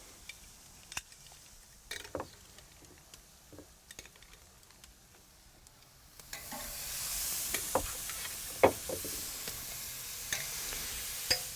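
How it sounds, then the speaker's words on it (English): Steaks and shrimp land on a 400-degree grill, with scattered scrapes and taps giving way to a steady, broad sizzle punctuated by occasional clinks of tongs. "So let's go ahead and put these on the grill."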